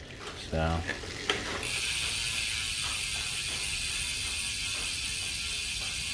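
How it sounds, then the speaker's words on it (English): Rapid mechanical clicking of a Nukeproof Neutron bicycle freewheel hub, a short burst of ratcheting followed by a steady whirring, close and fairly loud. "I'll give you a little sound of the hub"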